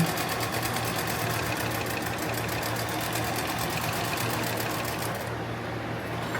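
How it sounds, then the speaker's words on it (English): A sewing machine runs a straight stitch along the edge of a homemade tactical plate carrier, a fast steady mechanical chatter close by that continues for several seconds before easing off at the end. "I'll just do a straight stitch across the edge here"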